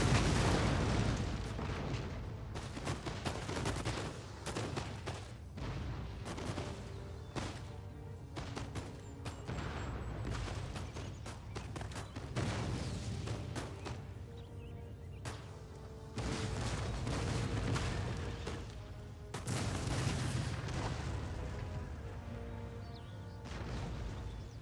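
Howitzer artillery in Empire Total War fires repeatedly, a string of deep booming blasts with crackling impacts spread irregularly across the battle, each followed by rumbling decay.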